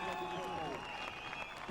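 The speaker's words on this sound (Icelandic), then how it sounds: "Og þvílík fagnaðarlæti, þetta var alveg ótrúlegt." Crowd applause at an Icelandic off-road race, a steady wash of clapping and cheering with a tonal whine running through it and a voice talking over the top.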